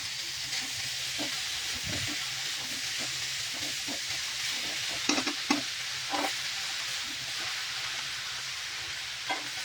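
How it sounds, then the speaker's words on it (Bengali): Boiled cabbage with katla fish heads is stirred in a sizzling pan, a steady frying hiss with scraping spatula strokes, a few louder clatters near the middle, heard alone without talk. "নাড়ায় চাড়ায় নিচ্ছি"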